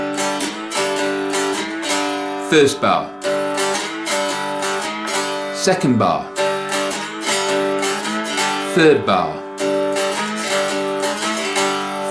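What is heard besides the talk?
dulcimer played with a slide, twelve-bar blues line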